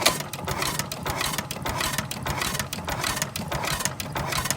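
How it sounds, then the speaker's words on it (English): International Harvester Famous 6 HP stationary engine running out of fuel, a close, busy rhythmic chuffing and mechanical clatter with regular pulses continuing throughout, no voices. "Just running out of gas in the carburetor. We'll let it run down."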